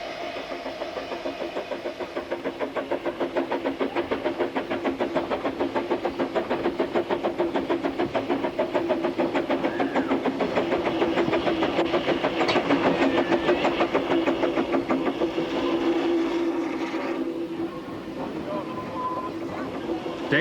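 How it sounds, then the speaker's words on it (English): Ffestiniog Railway narrow-gauge steam train running steadily through woods, a continuous rhythmic chuffing and rumble that builds slightly louder near the middle before easing off; no clear whistle stands out. "the up train can be seen, whistling for the footpath crossings in the woods"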